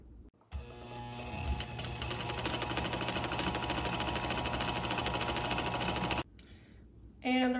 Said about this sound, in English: I'm just gonna fold it over and then sew it with a straight stitch